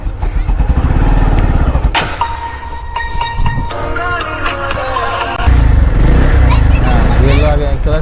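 A motorcycle engine drones steadily and close by while a boy learns to ride, the pitch and rumble shifting as it revs and changes gear. People talk over it throughout.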